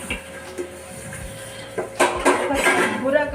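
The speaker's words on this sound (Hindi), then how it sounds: "बुरा काम लगता है मुझे बर्तन धोना, सबसे ज़्यादा।" Dishes, pots and pans clatter and clink during washing in a home kitchen, with a few sharp knocks at first and then a busier run of scraping and clanking, close and moderately loud.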